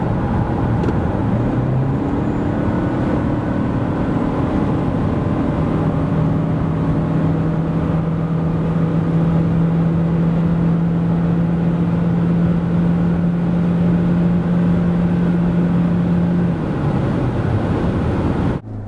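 Loud, steady engine drone from a Suzuki Swace Hybrid 1.8 with 122 hp accelerating from 90 to 140 km/h, the pitch climbing slowly over constant road and wind noise until it eases near the end.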